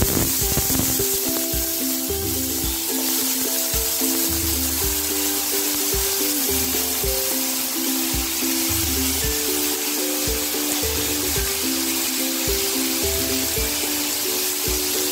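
Finely diced potatoes fry in oil with cumin seeds for jeera aloo, a loud, steady spraying sizzle close by, under continuous background music.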